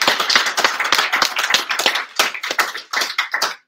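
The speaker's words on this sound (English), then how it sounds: "So let's do a little round of applause." A small group claps after student final presentations, with sharp, distinct close claps in an uneven rhythm, a few hands loud and separate rather than a dense roar, ending after a few seconds.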